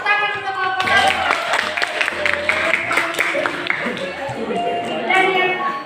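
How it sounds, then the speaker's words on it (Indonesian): Students in a science classroom applaud a group, steady moderately loud clapping for several seconds with crowd murmur underneath. "Tepuk tangan untuk kelompok 1."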